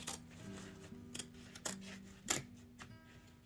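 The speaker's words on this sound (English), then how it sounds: "I'm going to cut out tabs for" Scissors snip paper tabs for a paint-by-numbers project, a few quiet crisp cuts spaced irregularly over a steady low hum, with no voices.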